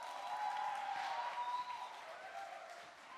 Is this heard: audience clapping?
yes